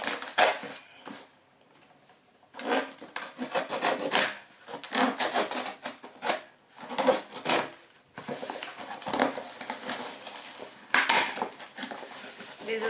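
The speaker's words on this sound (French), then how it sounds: "Alors on va ouvrir cette petite boîte tout de suite." A cardboard Birchbox subscription box is pried and torn open at close range, a series of irregular scraping, rubbing and ripping bursts with short pauses between them, without speech.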